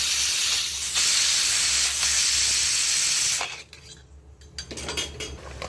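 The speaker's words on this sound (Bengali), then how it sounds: "প্রেসারটা খুলে নিয়েছি।" A pressure cooker of mutton rogan josh is opened and lets out a loud, sustained steam hiss that cuts off abruptly, followed by light metallic clinks of a pot and utensils.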